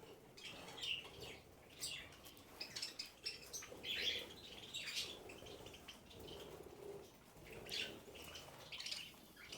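Caged birds, including pigeons or doves, chirp, coo and flap their wings in a panicked flurry, with repeated bursts of calls and wingbeats close by and no talking.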